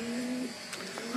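Pigeons in a loft that is holding birds for sale coo softly in a few drawn-out, low calls, faint and close together, with a steady background buzz.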